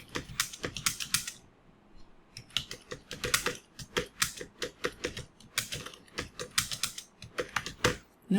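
Typing on a computer keyboard, with quick bursts of key clicks broken by short pauses, close and clear with no voices.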